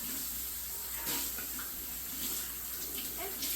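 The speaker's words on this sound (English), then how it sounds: "We just give it a quick rinse and then we shut the water off" Water runs steadily from a kitchen tap in a soft hiss, with faint clinks as dishes are rinsed under it.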